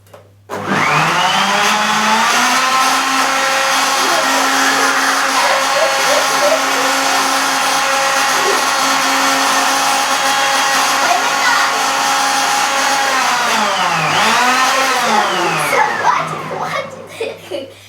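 A kitchen blender whirs loudly and steadily while mixing a milkshake, starting abruptly and winding down near the end, with a brief pitch dip partway through.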